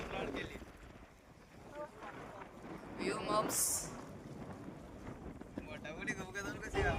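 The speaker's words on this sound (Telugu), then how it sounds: "ఎంత గాలి ఎంత వాన" Gusty wind buffets the microphone with a roaring rush during a rainstorm while fishing, and people talk over it; rain is not clearly distinguishable under the wind noise.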